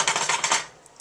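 A metal lid set onto a pot of simmering tomato sauce, a quick cluster of clattering rattles as it settles, close and fairly loud, then fading to quiet with a faint final tap.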